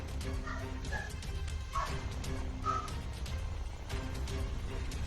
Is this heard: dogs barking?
yes